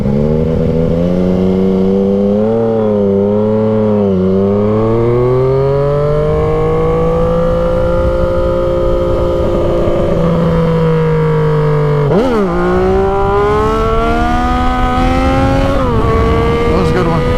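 Yamaha XSR 900 motorcycle ridden on the street, its engine loud and close, rising and falling through revs and gear changes with a sharp dip and re-acceleration near the end.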